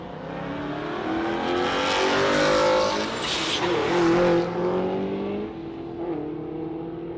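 A manually shifted Ford Falcon V8 drag car accelerating hard down the strip at Warwick Dragway, a loud sustained engine roar climbing in pitch through gear changes, then fading as the car pulls away.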